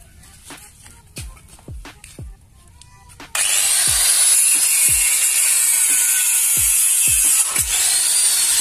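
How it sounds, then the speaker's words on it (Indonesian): A power tool cuts the steel rear frame of a Yamaha Jupiter MX being built into a custom C70. Sharp clicks and knocks come first, then a loud, steady high-pitched grinding cut starts about a third of the way in and runs to the end. "Udah masuk ke tahap proses pemotongan. Pemotongan rangka belakangnya."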